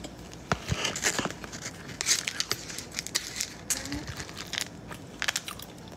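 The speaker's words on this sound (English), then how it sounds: "Do you hear the crunch?" Crisp crunching of food being chewed close up, irregular bites and crackles over soft background noise.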